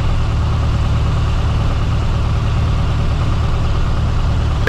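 Small aircraft piston engine running steady at about 1000 rpm with a leaned mixture, taxiing after clearing the runway; a loud, continuous low drone that fills the whole stretch without breaks or talk.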